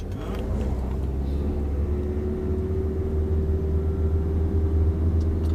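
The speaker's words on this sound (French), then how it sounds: "t'as juste à accélérer, on est en première vitesse" A car pulling away in first gear during a driving lesson, its engine a loud steady rumble with a rising tone throughout, close and continuous with no pauses.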